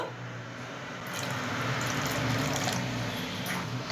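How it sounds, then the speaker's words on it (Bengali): A small amount of water is poured and stirred into ground cumin and coriander for a cooking paste, making a steady, wet, close trickling and swishing that carries on throughout. "এর মধ্যে এবার অল্প পরিমাণে আমি জল মিশিয়ে দেবো।"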